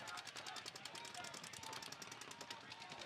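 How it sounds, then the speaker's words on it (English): Rapid gunfire in a competitive shooter video game match, bursts of automatic fire crackling quickly and steadily underneath louder commentators' voices. "there's gunfire coming in on the right edge"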